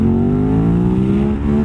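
A motorcycle engine revs hard and loud during a wheelie, a sustained close-up drone whose pitch slides gently as the throttle is held open.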